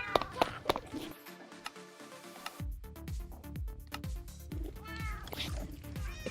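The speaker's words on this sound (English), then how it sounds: "The cats were too loud." Several cats meow loudly and repeatedly indoors, the cries rising and falling in a steady run of calls with brief gaps between them.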